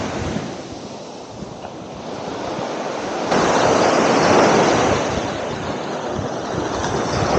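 Ocean waves wash steadily onto Desaru beach in Johor as the tide rises, a broad continuous rush of surf that swells louder midway, with wind buffeting the microphone.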